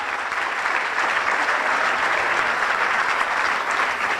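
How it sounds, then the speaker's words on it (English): Applause from the audience at the 2018 Nomad Summit, a steady, dense wash of many hands clapping without a break, fairly loud and even, with no talk over it. "I want to give these two a big round of applause"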